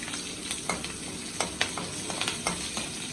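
Paneer and spices with bay leaf and chili frying in a home kitchen pan, a steady close sizzle broken by repeated scraping stirs of a utensil, with no talking.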